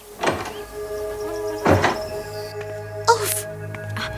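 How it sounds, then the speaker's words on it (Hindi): A door is opened in an animated Hindi fairy tale, with several thudding, sliding knocks and a rattle spread across a few seconds over a soft background tone and music. "अब दरवाजा खोलो।"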